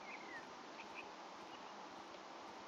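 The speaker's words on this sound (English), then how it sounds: "That's a lot of bees." Bees buzzing around a beehive in the farming video game Green Project, a soft, steady droning hum with faint high tones drifting through.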